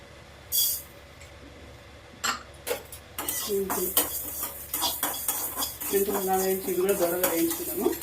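Fenugreek seeds fry in a pan for amla pickle, giving soft sizzling beneath intermittent clinks and scrapes of a stirring spoon against metal, with a faint voice murmuring in the background.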